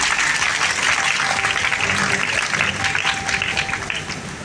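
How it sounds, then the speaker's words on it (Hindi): Sustained applause from an audience at a kinnar community gathering during Navratri, a dense, steady wash of clapping lasting several seconds before easing slightly at the end. "एक बार जोरदार ताली होनी चाहिए"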